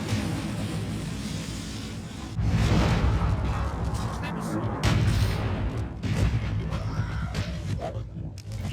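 Mortar and artillery fire in a competitive multiplayer shooter match with a flag objective: heavy, booming blasts and rumbling explosions that hit loud and close, repeating over several seconds with dense low-end impact.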